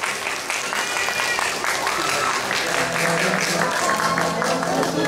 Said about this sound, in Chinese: 请观众给予他们热烈的掌声鼓励。